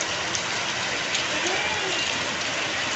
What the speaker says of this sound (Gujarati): આવી ગયો પાછો વરસાદ